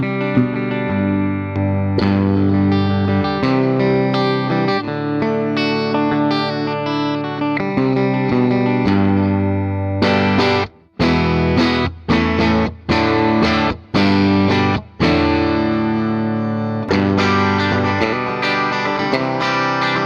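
A Cort Otera TK-1 electric guitar with distortion plays sustained chords, then a run of sharp, choppy stabs separated by brief silences, ending on ringing chords; loud and up close.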